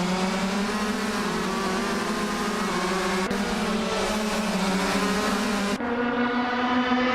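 Race cars in a racing video game roar off the start line at a raceway, led by a classic 2012 supercar, making a steady, loud, droning engine whine that holds a constant pitch with no talk.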